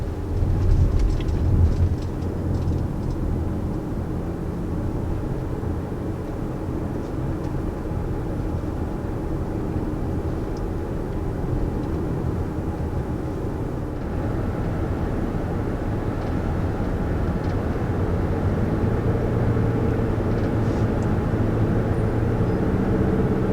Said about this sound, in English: So our engine just kicked on for the first time as we started moving here.